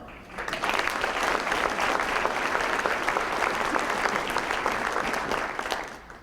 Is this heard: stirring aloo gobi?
no